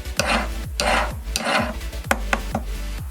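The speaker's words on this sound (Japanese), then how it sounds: "表面をヤスリをかけていきます。" A metal ring being hand-filed on its outer surface, rotated as it goes: a close series of rough rasping strokes, some long and some quick, each ending in a sharp tap, with no voices.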